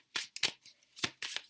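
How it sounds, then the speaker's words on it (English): Tarot cards are shuffled by hand in several quick, crisp riffling bursts separated by short pauses, close and fairly quiet with no speech. "Sorry if I'm shuffling off camera"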